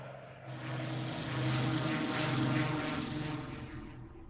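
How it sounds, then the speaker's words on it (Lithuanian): A Spitfire fighter plane with a Rolls-Royce engine drones past, a steady propeller-engine hum that swells and fades at moderate distance, with no talk over it. "garsusis lėktuvas Spitfire su Rolls-Royce varikliu"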